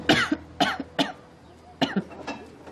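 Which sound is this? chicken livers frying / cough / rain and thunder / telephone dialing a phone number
cough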